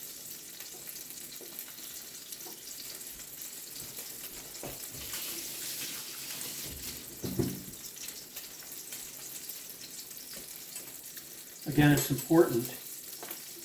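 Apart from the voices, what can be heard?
crab cake patty frying in a hot pan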